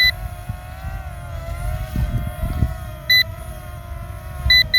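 A RUKO F11 Mini drone's low battery warning beeps as short high pips in a couple of quick bursts, heard over steady motor hum and outdoor noise.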